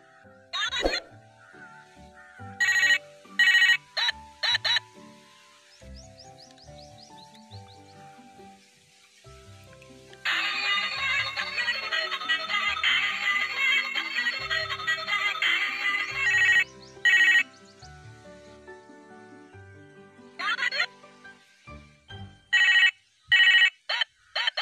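A toy mobile phone plays electronic ringtone tunes and beeps in short bursts, with one long sustained jingle in the middle, loud and close with no voices.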